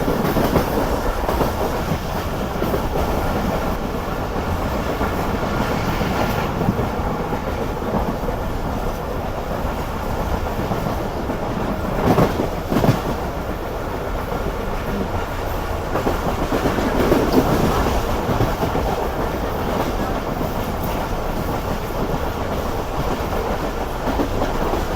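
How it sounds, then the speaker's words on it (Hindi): The Rehman Baba Express passes through Dhabeji railway station at speed, heard from inside a carriage. A steady loud rumble of the train runs throughout, with rhythmic clickety-clack and occasional sharper rattles. "और काफ़ी अच्छी स्पीड में थ्रू पास करने जा रहे हैं हम धाबेजी रेलवे स्टेशन को"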